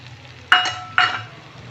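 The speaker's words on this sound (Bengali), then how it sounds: "দিয়ে এবার এগুলোকে ভালো করে নাড়াচাড়া, এটার সঙ্গে একসঙ্গে ধনেপাতার সঙ্গে আর সর্ষের সঙ্গে ভালো করে সুজিটাকে নাড়াচাড়া করতে হবে।" Semolina being stirred in a pan with coriander leaves and mustard, two short scraping strokes close by against a faint background hiss.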